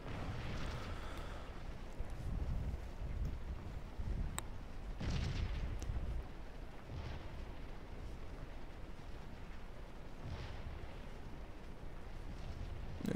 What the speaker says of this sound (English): So those two regiments continue trading fire.